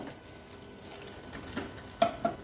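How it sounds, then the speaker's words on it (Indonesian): Corned beef is stirred through a frying pan, giving a faint, soft scraping and low sizzle, with a few sharper clicks of the utensil against the pan near the end. "Kita aduk merata."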